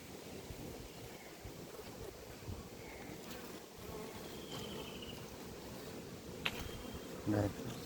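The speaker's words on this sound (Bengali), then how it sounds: "বক্সের সামনে মৌমাছি ঝুলতেছে কত সুন্দর মৌমাছি" Steady low buzzing of honeybees at a hive box, many bees humming close by, continuous throughout with a soft outdoor wash and a brief louder buzz near the end.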